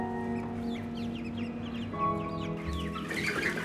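Chicken clucking while being held in a hand, with a run of short, close clucks and squawks against a steady low background hum, with no talking.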